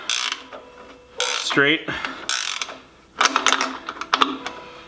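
Ratchet clicking in short bursts while tightening an LED light mount onto a garden tractor, close metallic ratcheting with pauses between strokes and a brief spoken word.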